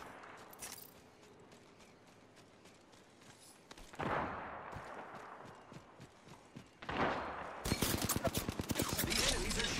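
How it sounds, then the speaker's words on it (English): Enemy gunfire in the video game Apex Legends, faint scattered shots at first, then louder bursts and a dense rapid volley near the end. A voice speaks at moments. "The enemies are shooting at me."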